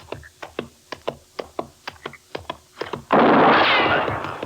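Gunshots from an old-time radio western drama, a run of about a dozen sharp, evenly spaced reports, then a sudden loud sustained blast of noise that fills the last second.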